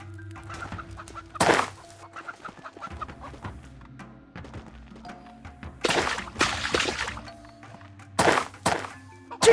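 Video game chickens cluck in short bursts amid thunks and sharp whacks from attacks, with several loud noisy hits spaced irregularly over a quieter background.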